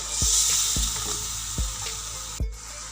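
Goat trotters for mutton paya fry gently in a pot with a loud, steady sizzle. A few dull thumps from stirring land at irregular moments, and there is no talk.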